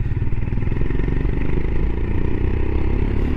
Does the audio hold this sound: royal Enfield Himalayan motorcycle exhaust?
yes